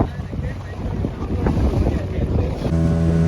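Boats out at sea near Devbag beach in Malvan, with engine drone, water wash and strong wind buffeting the microphone throughout, while a person talks over it.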